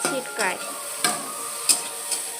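Vegetables are stirred and sautéed in a hot pan for a vegetarian dish. About five quick spatula scrapes sound close and clear over a constant sizzle.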